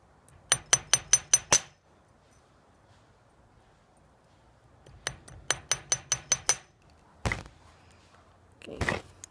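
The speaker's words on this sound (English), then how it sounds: "I'll just hammer the loops only." Chasing hammer striking wire earring loops on a steel bench block: two quick runs of six or seven sharp metallic taps, then a couple of single knocks, close and clear with silence between.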